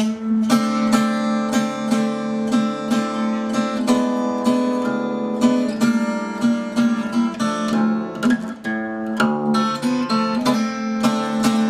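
Solo acoustic guitar plays a Delta blues introduction, rapid fingerpicked notes over a sustained bass drone, close and continuous with a brief pause near the end.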